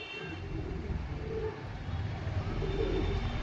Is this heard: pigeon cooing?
yes